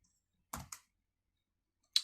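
A few sharp keystrokes on a computer keyboard while entering special characters: two quick clicks close together, a pause, then one more crisp tap, with no voices.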